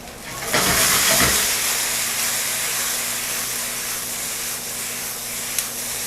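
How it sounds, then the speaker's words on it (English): Potatoes and onions sear in a hot pan with a broad, steady sizzling hiss close by, louder for a moment near the start as the food is moved, then holding even, with no talk. "we're starting to get a nice sear on the potatoes"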